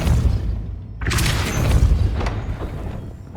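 Depulso force spell cast in Hogwarts Legacy, a heavy booming blast with crackling, shattering debris that rumbles on for a few seconds, loud and alone.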